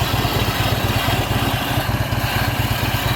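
A 2009 Harley-Davidson Tri Glide Ultra trike with a 110-inch motor runs close by, its engine thumping in a steady, loping idle rhythm throughout.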